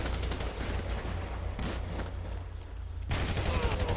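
Gunfire during a bank robbery mission in the GTA 5 video game, dense bursts of rapid shots over a low rumbling game soundtrack that briefly drops away before the firing resumes, loud throughout.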